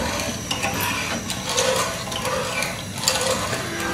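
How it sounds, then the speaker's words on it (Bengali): Milk and sugar are stirred together in a pan, a close, continuous scraping and swishing with rhythmic clicks of the utensil against the pan, steady and without speech. "এবার দুধ আর চিনিটাকে ভালো করে নেড়ে মিশাতে হবে"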